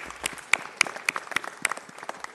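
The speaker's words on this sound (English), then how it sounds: "Let's give Officer Austin a round of applause." Scattered applause for a Los Angeles Police Department officer at a city council meeting, a modest number of separate claps ringing out loud and close, irregular and unaccompanied by talk.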